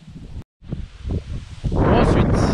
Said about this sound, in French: il y a un peu de vent, le temps est maussade